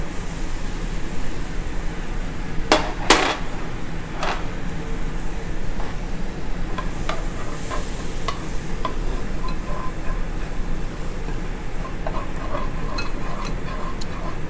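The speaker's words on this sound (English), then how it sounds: "mix that up until it looks like wet sand" Butter and flour roux stirred in a pan for country gravy, a steady close sizzle with scraping stir strokes and a few sharp clicks throughout, no talking.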